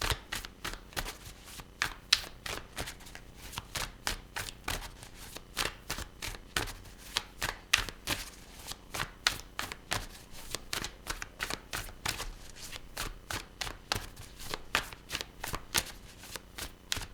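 Tarot cards shuffled by hand in a quick, steady run of crisp riffling flicks, close and fairly quiet, continuing without pause.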